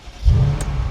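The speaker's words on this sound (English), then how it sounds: "let's turn this chunky V8 over" The V8 engine of a ten-year-old Mercedes S63 AMG coupe fires up with a brief starter whir and settles into a loud, deep, steady rumble close by.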